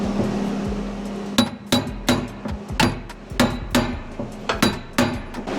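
Repeated hammer blows straightening a crashed 2009 Porsche Cayman body panel, about a dozen sharp metallic strikes in irregular bursts, loud and close over a low steady hum.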